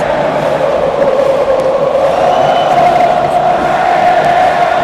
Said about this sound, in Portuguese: vocês estão ouvindo, olha a torcida dos caras